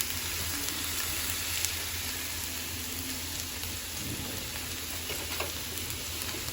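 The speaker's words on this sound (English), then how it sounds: "you should take that into a low medium heat and stir it until it's sauteed" Garlic sautéing in vegetable oil in a pan over low-medium heat, a steady soft sizzle with faint scattered scrapes of stirring throughout.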